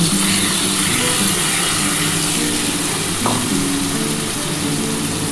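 Ground spice paste frying in hot oil in a pan for a thin katla fish curry with vegetables, a steady loud sizzle throughout with a faint clink partway.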